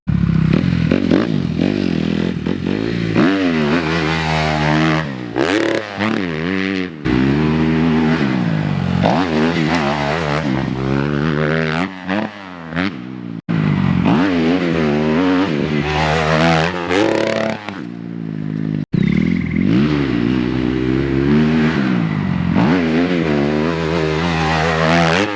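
A dirt bike ridden on a new motocross track, its engine revving up and down loudly and close, with repeated acceleration surges, gear changes and brief drops in throttle.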